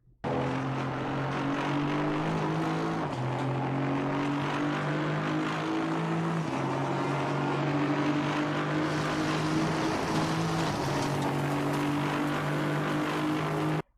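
Racing engines from GT3 and GT4 cars in Assetto Corsa Competizione, including an AMG GT4 and an Audi, drone steadily with shifting pitch and gear changes, loud and continuous throughout with no talk.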